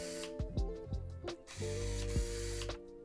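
Autofocus motor of a Minolta Maxxum 7000 film camera, an early autofocus model with a broken shutter, whirring and ratcheting in several short mechanical bursts, close and fairly loud with no talk.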